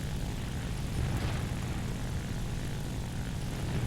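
Propeller fighter engine in War Thunder realistic battles, a steady loud drone sitting low and holding constant for a few seconds, with no talk over it.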